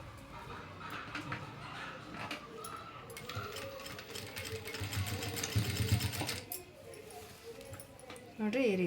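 A sewing machine stitches a saree with a steady, continuous whir under someone speaking Kannada, and a dog whimpers and yips faintly at times.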